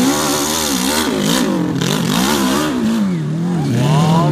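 Home-built single-axle tractor with a small engine racing at a single-axle tractor race in Tegerfelden, its engine droning loudly and continuously, pitch wavering up and down as it revs under load close by.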